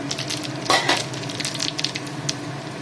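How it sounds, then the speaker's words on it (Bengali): Dried red chillies and whole cumin seeds hit hot mustard oil with a sudden loud burst of crackling sizzle, then keep spitting and popping in short bursts, close and without any voices. "তো আমি শুকনো লঙ্কা নিয়েছি আর গোটা জিরে নিয়েছি, এই যে তেলের ওপরে দিয়ে দিচ্ছি।"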